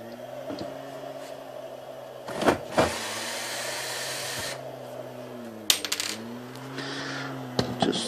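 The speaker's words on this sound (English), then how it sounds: "I'm gonna take these four screws out that I have." Four screws backed out with a battery-powered drill while removing a grid-tie inverter, heard as short whirring bursts with pitch sweeps, a few clicks and clatters between them, close by.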